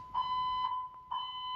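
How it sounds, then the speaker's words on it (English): In an apartment building, a fire alarm at 2:56 a.m. gives a steady, high electronic tone in repeating pulses, heard at moderate distance and with no talking. "this is just another fire alarm directed at myself and my husband"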